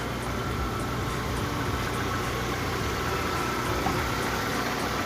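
A Skoda car engine idles steadily after starting, a constant low mechanical hum with slight vibration and no talk over it.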